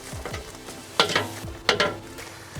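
Freshly popped popcorn tumbling out of a popcorn machine kettle, with a few sharp rustling pours and scraping stirs close by, no talking.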